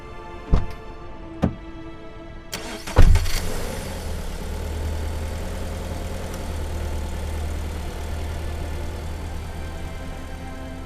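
In a rainy-night detective video game, a car door shuts with a couple of sharp thuds, then the engine turns over and fires, settling into a low, steady idle that runs on alone.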